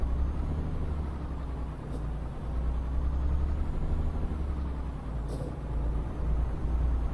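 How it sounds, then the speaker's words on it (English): A truck idles in Euro Truck Simulator 2 with its engine rumbling low and steady, and two short air-brake hisses break through, one of them brighter, all under a constant background drone with no talk. "I can hear a truck somewhere"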